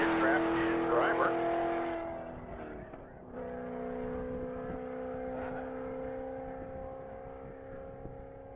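A gray 2007 Corvette Z06 roars past on a top-speed mile straightaway, its loud engine tone fading and shifting as it runs, with a commentator talking over it.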